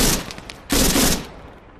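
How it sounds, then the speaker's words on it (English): Enemy gunfire in Arma 3 coming from a tower, rapid loud bursts of shots, a shorter volley followed by a denser sustained burst that trails off, no talk. "Start taking shots from Tower 4."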